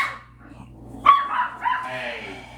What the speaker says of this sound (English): What are you barking at? You barking at me?